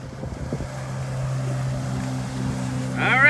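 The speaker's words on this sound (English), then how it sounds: "I got her to come out on the jet skis" Jet ski engine droning steadily while speeding across open sea water, with wind buffeting the microphone and the motor rising louder near the end.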